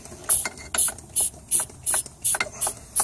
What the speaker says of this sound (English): All right, so this is my Mighty Vac suction tool.